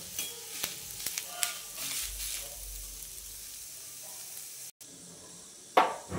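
Onion roasts in a pan for chicken rassa, giving a soft, steady sizzle with occasional stirring scrapes and clinks, fairly quiet and close.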